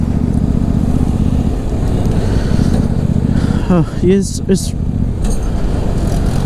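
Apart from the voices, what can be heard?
motorcycle being ridden on a road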